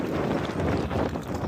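Wind buffets the microphone in a loud, continuous rumbling roar at the Royal Gorge, with no other clear sounds.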